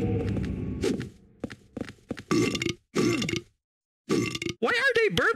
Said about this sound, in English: Why are they burping?